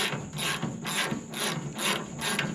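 A GearWrench ratchet wrench clicks in five or six quick bursts of rapid pawl ticks, close and fairly loud, with brief pauses between strokes.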